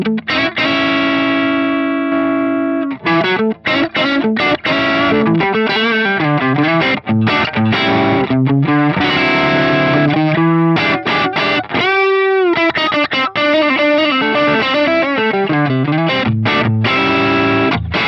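High-gain electric guitar played through a bluesy Mark Series style amp setting with a mid-range shift engaged, giving a thick, creamy distorted tone; a continuous run of sustained notes and quick licks, close and loud with no talk.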